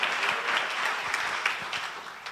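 Worshippers at a Sunday church service break into applause, a dense continuous clapping that fades slightly toward the end, heard alone without talk.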